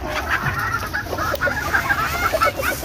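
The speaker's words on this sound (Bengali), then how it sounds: "শোভন ভাই এখন মুরগিগুলো ছেড়ে দিচ্ছে।" Poultry chickens cluck busily and continuously at close range as they are let out of their shed, with steady overlapping calls.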